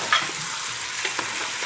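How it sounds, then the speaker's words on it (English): Chicken fries on high heat in a pan while a spoon stirs it now and then, a loud steady hiss with a few light scraping knocks, no voices. "we're going to cook that on high, just stirring it a little bit"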